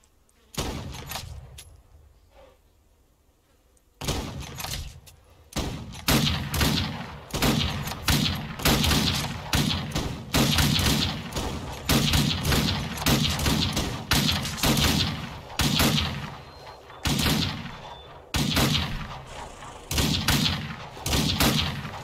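Rifle gunfire in the Old West video game Outlaws of the Old West: after a brief lull, a long run of loud, sharp shots fires in quick irregular bursts, close and dominant throughout.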